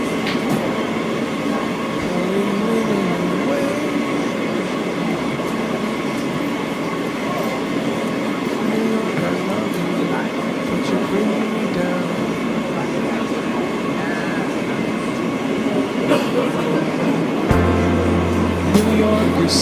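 Manhattan-bound E local subway train in New York running, a continuous loud rumble and rattle from inside the car with a squeal and a shift in tone near the end, faint voices underneath.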